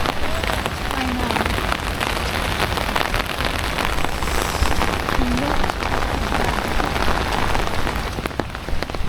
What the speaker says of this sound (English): Yeah, it's raining heavily.